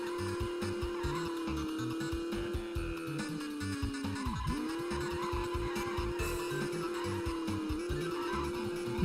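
Race cars in a Grand Prix racing video game, a steady high engine whine held throughout with a sharp pitch dip as a car sweeps past midway and tire squeal, loud and up close.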